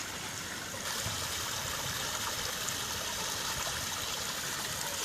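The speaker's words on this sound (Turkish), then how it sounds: "Şırıl şırıl suları akıyor." Stream water flowing through a botanical park in Eskişehir, a continuous close, bright rushing and trickling that holds steady throughout with no voices.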